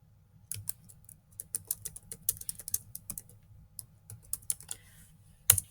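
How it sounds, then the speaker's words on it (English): Close-up typing on a computer keyboard, irregular bursts of light key clicks with short pauses and a louder keystroke near the end. "I can also keep typing."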